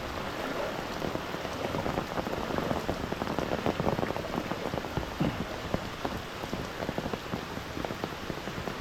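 Heavy monsoon downpour in the Konkan countryside, a dense, steady roar of rain pattering on surfaces close by, unbroken throughout and with no voices.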